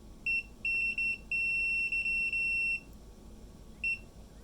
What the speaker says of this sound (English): They're on continuity, which means it's going to beep anytime that there's a short between the probes.